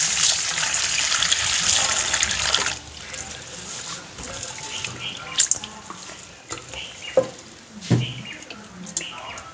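Lentils are washed by hand in water in a kitchen, with a loud splashing trickle at first, then quieter sloshing and a few sharp knocks and drips; a voice speaks over part of it.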